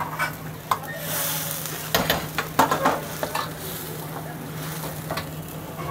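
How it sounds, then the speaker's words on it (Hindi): A pot of Veg Manchow soup boils at close range, with a busy bubbling churn broken by several sharp clinks and clatters. "इस तरीके से इसमें उबाल आ गया है"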